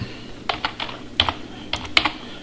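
Quick, uneven typing on a computer keyboard during a PowerShell session, close-up key clicks in small bursts with no talking.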